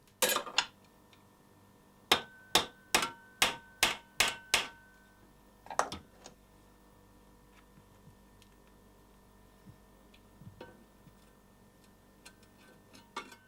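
Sharp metallic hammer blows shape sheet metal into the cab of a model steam locomotive, a quick run of about eight evenly spaced strikes followed by a few sparser, fainter taps in a quiet workshop.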